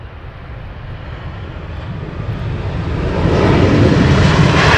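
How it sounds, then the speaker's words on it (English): An airliner lands at Heathrow, its reverse thrust rising into a loud, broad roar that swells toward the end and holds steady with no talk over it. "The old reverse thrusters there."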